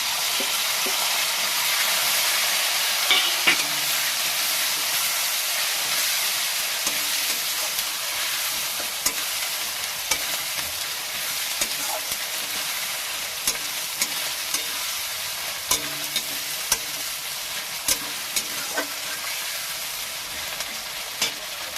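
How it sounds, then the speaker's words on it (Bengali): Garlic and ground spices sizzle steadily in a hot pan, a constant close frying hiss with occasional stirring clicks and taps from the spoon. "রসুনটা একটু ভেজে নিচ্ছি আমি সব মশলাগুলো দিয়ে দিলাম"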